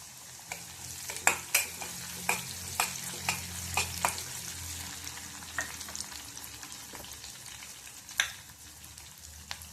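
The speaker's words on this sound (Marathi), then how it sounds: "छान परतत राहायचे आहेत मसाले" Green chilies, garlic and spices sautéing in a pan, a continuous oily sizzle punctuated by repeated sharp scraping taps of a spoon stirring, close and fairly quiet, with no talking.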